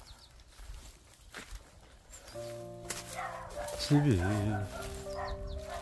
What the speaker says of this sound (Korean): 동네 댕댕이들이 또 찾아댄다.